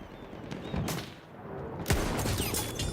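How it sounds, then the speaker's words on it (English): Sniper fire in Battlefield 1 on an RTX 5090, with sharp gunshot cracks and reports ringing out amid dense game battle noise, a couple of shots standing out loudly over the constant din. "someone's sniping me from somewhere else"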